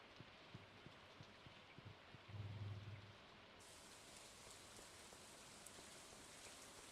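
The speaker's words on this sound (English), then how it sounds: "I love the ambience of this rain" Rain ambience in the video game Stardew Valley: a faint, continuous patter of rain with a brief louder rumble partway through, with no voices over it.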